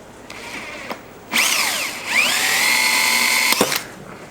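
Power drill boring into the rusty iron of an antique book press, a high whining bit that bites in with sweeping pitch changes, then runs steady and loud for a couple of seconds before stopping, close up.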